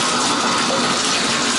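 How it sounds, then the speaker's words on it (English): A shower runs hard with strong water pressure, a loud, continuous gushing hiss filling the bathroom, steady throughout with no talking. "So we have beautiful water pressure there."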